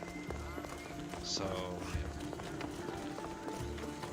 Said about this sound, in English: Instead, we have my trusty steed Phobos. Off we go now.